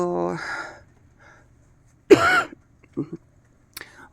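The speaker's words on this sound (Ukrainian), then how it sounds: "намагаюсь стримати кашель" A short burst of coughing and throat clearing, with a couple of smaller coughs after, between quiet stretches and brief speech.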